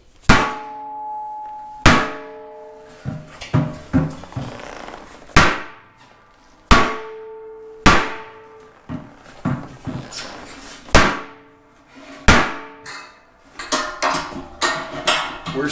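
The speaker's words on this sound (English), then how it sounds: "So we'll start with the mallet and see if we make any progress." Mallet and heavier hammers strike a pressed steel 9-bolt tractor wheel rim, giving loud ringing metallic clangs, some single and widely spaced, others in quick clusters, each decaying with a bright resonant ring.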